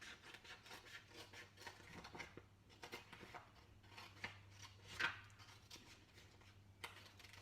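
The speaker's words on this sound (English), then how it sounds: "And using paper snips, you trim it down." Paper snips trimming a sheet of paper, close up: repeated crisp snipping and rasping cuts, steady and fairly quiet, with one brighter snip near the end and a low hum beneath.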